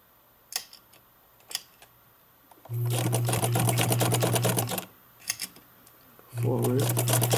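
A vintage Necchi BU sewing machine stitches through two layers of denim in two steady whirring, rapid clicking runs, close up, separated by quieter pauses with a few sharp mechanical clicks.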